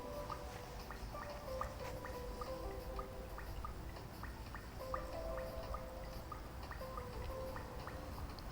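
Bath water runs steadily in a Toca Boca video game, with a dripping, trickling texture, punctuated by faint game-like tones and clicks throughout.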